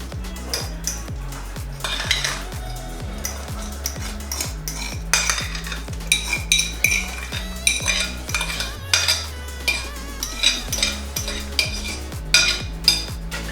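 A spoon scrapes and knocks against a mixing bowl in a steady rhythm as mashed bananas are folded into banana bread batter, with clinks repeating close up and no voices.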